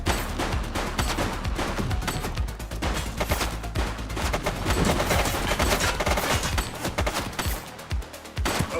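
Rapid gunfire rattles through a firefight in the police game The Precinct, dense overlapping shots and bursts for several seconds, loud and close.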